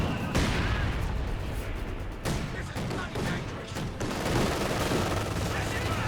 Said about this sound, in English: Vickers has to get a good suppression run there.